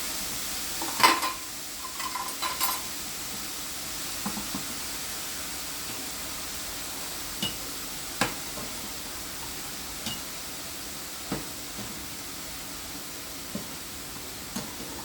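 Chicken sizzles softly in hot oil in a pan while a utensil stirs it, with scattered sharp scrapes and clinks of metal against the pan over a steady faint hiss.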